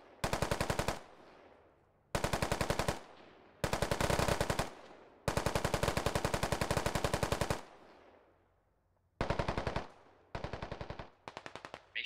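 Machine gun tracer fire in the Squad video game, long rapid automatic bursts separated by short pauses and echoing tails, loud and close with no speech.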